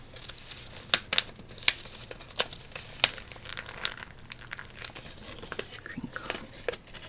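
Close, crisp crinkling and crackling of material in short irregular bursts, some sharp snaps among softer rustles, with no talking.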